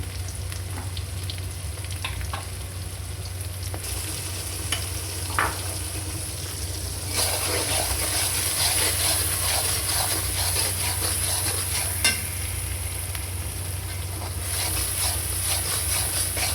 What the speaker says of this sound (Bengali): চিংড়ি মাছটা এভাবে একটু ভেজে নিব